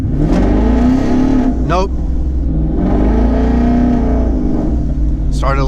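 A twin-turbo 2019 Mustang GT accelerates hard, its engine roaring loudly up through the gears with sharp pauses for shifts, heard close from inside the cabin, with a brief spoken word partway through.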